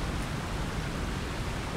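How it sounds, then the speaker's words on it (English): A steady, dense rush of falling water roars continuously at an even level, a nearby waterfall in Lord of the Rings Online. "Past the noisy waterfall."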